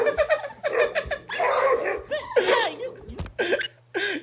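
A dog yips, barks and whimpers in short bursts at close range, mixed with overlapping voices and laughter over steady background music.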